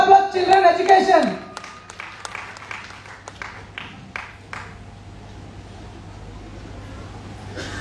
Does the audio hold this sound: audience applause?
yes